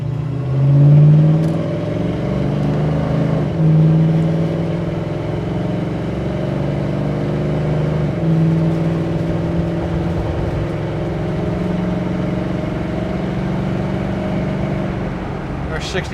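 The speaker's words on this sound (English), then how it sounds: "Not sure if you can hear in the video how nicely the tranny shifts" A 1970 Ford Mustang engine drones steadily while driving, its pitch climbing and then dropping at several clear gear shifts of the transmission, with speech occasionally over the engine note.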